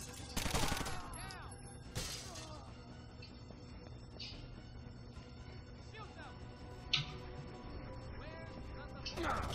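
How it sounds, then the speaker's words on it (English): Gunfire in Rainbow Six: Vegas 2 as enemies shoot through a vent, a burst of loud shots early on, then scattered impacts over a steady game-ambience bed with occasional talk. "They shot through the vent."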